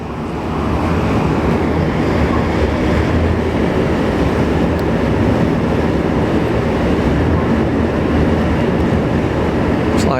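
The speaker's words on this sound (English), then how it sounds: "Okay, there we go. That's the engine starting up." The Caledonian Isles ferry sits at its berth in Brodick as the engine starts up, a dense, loud, steady low rumble and roar that swells within the first second and then holds constant throughout.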